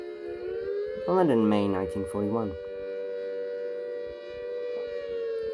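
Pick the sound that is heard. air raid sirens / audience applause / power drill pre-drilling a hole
air raid sirens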